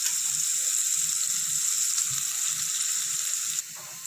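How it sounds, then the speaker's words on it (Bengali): Onions hiss and sizzle as they fry lightly in a pan for street-style egg fried rice, a steady broadband crackle with soft low stirring knocks, dropping quieter near the end. "দেখুন আমার পেঁয়াজটা হালকা ফ্রাই হয়ে গেছে"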